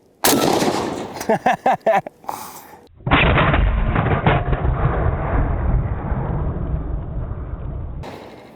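A Pauza .50 caliber rifle fires outdoors. A loud, heavy blast with rapid crackling opens, then a second powerful boom rolls into several seconds of dense, rumbling roar before cutting off.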